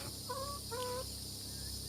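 Backyard chickens clucking in a few short, soft, rising calls over a steady hiss of background noise, fairly faint and distant, with no voices.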